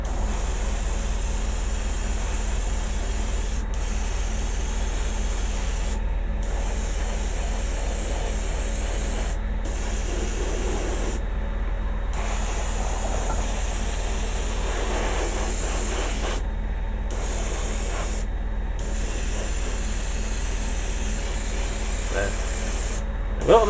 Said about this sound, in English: What I'm doing with the airbrush, I'm constantly moving the airbrush.